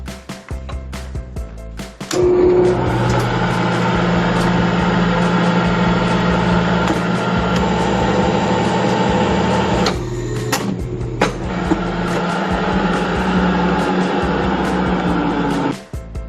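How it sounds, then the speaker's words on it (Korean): A paper cutting machine trimming creased pamphlets at a small-batch print shop: a loud, steady mechanical drone with a brief dip near the middle, continuous and close, no talk. "오시를 넣은 후 재단을 해줍니다"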